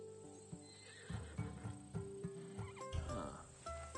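A horse in Assassin's Creed Odyssey, a Thessalonian breed, lets out a few snorts and a whinnying neigh over soft game ambience, close and fairly quiet.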